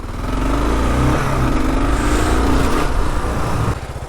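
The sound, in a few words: Kawasaki KLR650 motorcycle engine while turning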